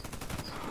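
Rapid gunfire in the video game Warface, a dense burst of shots packed close together across a brief moment, loud and continuous with no pauses.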